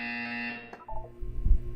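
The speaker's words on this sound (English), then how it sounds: "When you hear the buzzer, look up at the ceiling." A sustained electronic buzzer tone in the Portal 2 video game, steady and fairly loud for about three quarters of a second before cutting off, followed by low thumping game sounds with no one talking.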